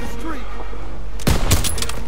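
Machine-gun fire from the Call of Duty WW2 campaign mission Stronghold breaks out as a loud, short burst of rapid shots near the end, following a steady background rumble.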